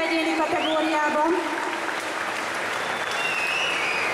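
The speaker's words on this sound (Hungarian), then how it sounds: "Nagy tapsot szépen kérek szépen még egyszer a legjobb kosztümnek egyéni kategóriában" Audience applause for the best individual costume at a Budapest cosplay contest results show, steady clapping under a host's talk.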